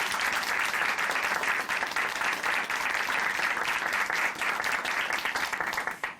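Church audience applause: a thick, continuous burst of clapping at steady loudness that tapers off at the very end after about six seconds.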